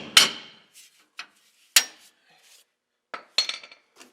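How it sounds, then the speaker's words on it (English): A claw hammer strikes metal while helper springs are fitted on a 1992 Ford F-150, giving several sharp, isolated clanks spaced irregularly with quiet gaps between them. "run over and grab that claw hammer."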